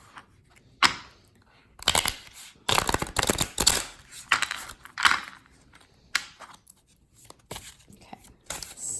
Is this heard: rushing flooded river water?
no